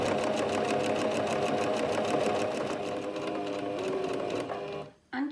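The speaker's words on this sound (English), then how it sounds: "I'm just sewing 1/4 inch seam allowance all the way around the 3 sides of the bag" A sewing machine runs continuously at steady speed while stitching a quarter-inch seam along the sides of a cloth storage bag for sanitary pads, loud and close, then stops abruptly near the end.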